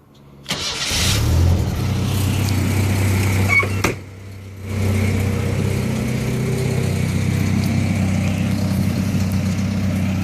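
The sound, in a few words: pickup truck engine revving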